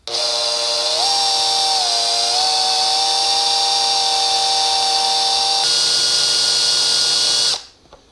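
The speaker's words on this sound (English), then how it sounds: "So you set the drill to reverse." A power drill running in reverse on a bolt of a Yamaha YFM225 whines steadily for about seven seconds, its pitch shifting slightly as it works, then cuts off abruptly.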